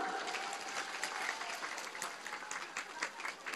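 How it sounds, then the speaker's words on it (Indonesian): Steady applause from a crowd, many hands clapping continuously for a few seconds with no one speaking. "Tepuk tangan dulu dong."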